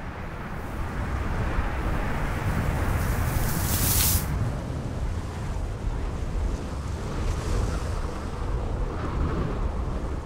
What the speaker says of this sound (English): The winds generated out at sea sweep inland across the continent.